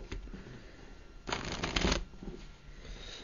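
A deck of playing cards is shuffled up close during a card trick, a short burst of riffling flutter that swells and then stops, with no talking.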